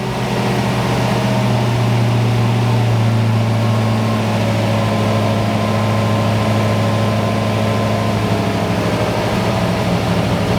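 A small engine turning over at about 1,000 to 1,200 rpm tick-over after a start on choke, a steady, even low drone that continues without change throughout, close by and fairly loud.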